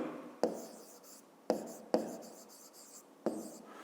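Pen writing out a fifth-grade math solution on paper, four separate bursts of close scratchy strokes with quiet pauses between, no speech.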